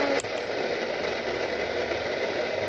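A Degen 1103 or Qodosen DX286 FM radio receiver gives off a steady, faint static hiss between stations, broad and unbroken after a brief click at the start.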